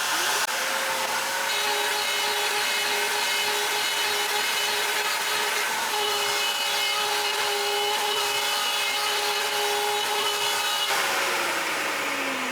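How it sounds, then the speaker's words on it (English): A Onefinity CNC router runs steadily, cutting into wood with a constant high whine and grinding rasp, loud and close, the pitch shifting slightly as the bit changes direction; no voices. "All there's left to do is turn the router on and go."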